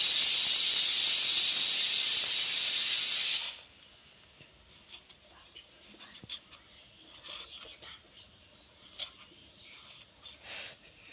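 A pressure cooker cooking meat with pumpkin lets out a loud, steady steam hiss for a few seconds, which cuts off abruptly and leaves faint scattered clicks and rustles.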